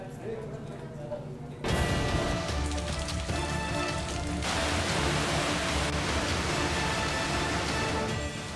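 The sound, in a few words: heavy monsoon rain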